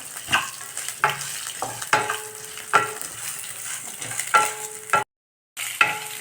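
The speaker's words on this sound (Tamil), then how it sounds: "வெங்காயம் சின்ன வெங்காயம் நல்லா வதங்கிடுச்சு" Small onions sautéing in a pan for a drumstick-leaf chutney, with repeated scraping stirs at a steady pace over a soft continuous frying sizzle, followed by a brief silence near the end.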